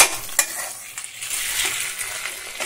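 Chopped tomato with garam masala powder frying in a pan, a steady close sizzle with a few sharp clinks of a utensil against the pan near the start.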